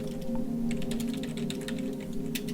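Rapid, irregular clicks of typing on a computer keyboard, close and fairly quiet over a steady low hum.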